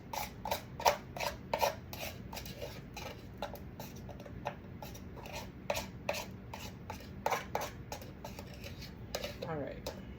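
A small spoon scrapes the crust of cookie bars from the corners of a baking pan, giving a string of short, close, clicking scrapes in an uneven rhythm over a faint background hum.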